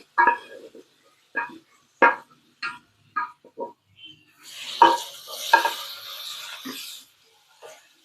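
Small onions go into hot oil with spices and asafoetida for a side dish to serve with idli and dosa. A short burst of sizzling and stirring rises midway, surrounded by scattered brief clinks and knocks.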